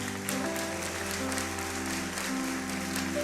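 Steady applause from a church congregation, continuous and full, with a sustained musical tone running underneath throughout.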